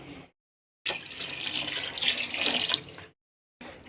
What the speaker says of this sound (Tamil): அதுக்கு டபுளாக நம்ம தண்ணி ஊற்றிக்கலாம். இப்போ 3 கப்பு ஊற்றணும்.